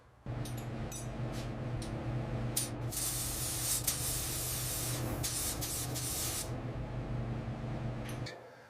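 Paint spray gun hissing steadily as it coats the fender of a 1967 Chevrolet Impala during restoration, a continuous close broadband spray running nearly nine seconds with brief trigger bursts at the start and end over a low shop hum.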